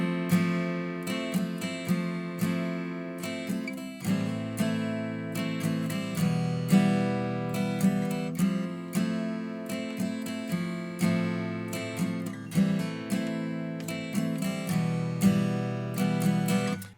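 An acoustic guitar plays the chords of a song with hammer-on articulations, steady fingerpicked strums repeating for several bars, close and alone.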